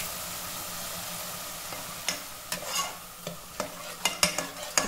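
Grated khoa roasting with spices in a kadhai, with a constant soft sizzle broken by repeated scraping strokes of a spoon that grow more frequent toward the end.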